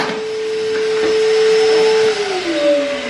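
A DIY shop-vac dust collector with a pressure release valve sucks up sawdust from a bucket, a loud steady vacuum roar with a whistling tone that drops in pitch near the end.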